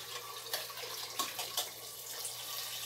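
Water pours into a cooking pot for a thick-noodle soup in a home kitchen, a steady splashing, trickling rush with a few brighter splashes and clinks, heard fairly close with no talking.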